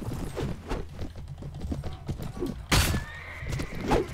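A horse in the Mount & Blade: Viking Conquest video game gallops with steady clip-clop hoofbeats, then lets out a loud whinny and a second fainter neigh, with battle noise behind it.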